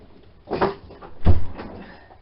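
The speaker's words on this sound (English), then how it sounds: "Shut this door." An indoor door is pushed shut, giving two soft thuds about a second apart, close and fairly loud, with no talk.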